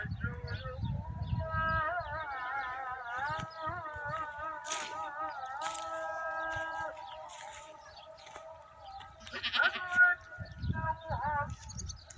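Young goats bleat in a run of wavering, quivering cries, with some low rustling and background noise around them.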